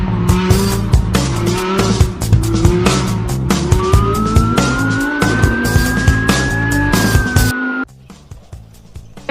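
A police patrol car siren wails loudly during a chase, with an engine revving, tires squealing and sharp skidding bursts underneath, before cutting off abruptly near the end.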